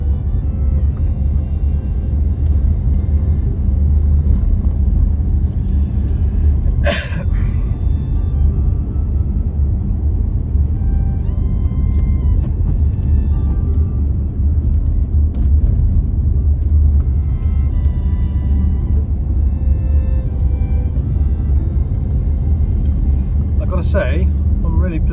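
A Subaru Outback cruises along a rural Scottish road, its steady low engine and tyre rumble droning continuously and fairly loud, with a couple of brief knocks from the cabin and a person talking over it.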